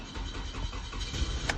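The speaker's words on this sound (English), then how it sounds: "I crank it. This Toyota Camry 2008." A 2008 Toyota Camry engine with a throttle body fault turns over and runs, a steady low mechanical rumble with a brief sharper burst near the end, heard close by with no talking.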